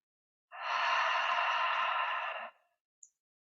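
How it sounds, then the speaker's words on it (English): A single long yoga-style exhale with an ocean-like breathy rush lasts about two seconds in quiet surroundings, followed by a tiny faint click. "Another option is to exhale through your nose, but try to still listen to the sound of the ocean."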